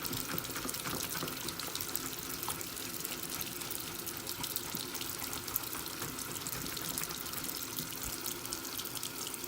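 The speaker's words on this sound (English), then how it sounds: "A little bit of water." Steady water streaming from a tap, a continuous broadband rush with no breaks, fairly close and alone without any talking.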